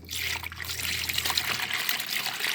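Cheap instant coffee, strong and dark, poured from a container into a quart of water in a jar, giving a steady close trickle and splash that runs for a few seconds without any talking.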